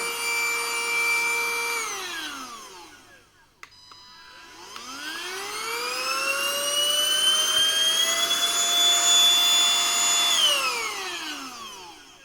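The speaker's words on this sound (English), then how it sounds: "It's got this turbo boost, this button, this turns it on, and then you could use the turbo boost for additional suction power" A Beldray Revo BEL0944SL handheld vacuum cleaner whines loudly up close. Its motor pitch falls as it winds down, then stops with a click, starts again and rises to a higher, louder whine before winding down once more.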